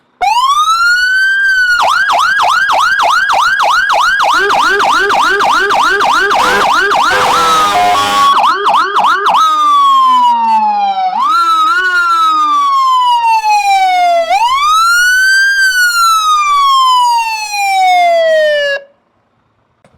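A Scania GCBA fire truck runs its siren through several modes, rapid yelping warble then long rising and falling wails, with a horn blast mixed in, very loud and close with no talking.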